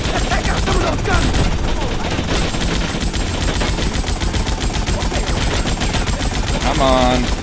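Rapid automatic gunfire from a shootout in GTA Vice City, loud and dense, rattling without pause across the whole stretch, with game sounds mixed in.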